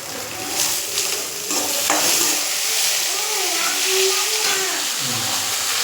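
Finely chopped bitter gourd fries in hot oil with a steady, bright sizzle, and a spoon stirs and scrapes through the pan close to the microphone.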